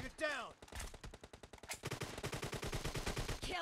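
Rapid bursts of suppressed AKM fire in a team deathmatch video game, loud, close and repeated as a steady automatic stream of shots, with a short game voice callout at the start.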